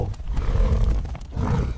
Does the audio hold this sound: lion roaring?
yes